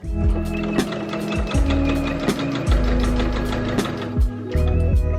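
A sewing machine runs a rolled hem along curtain fabric in several short bursts, with a rapid mechanical needle rhythm and brief pauses between runs, loud and close with no talking.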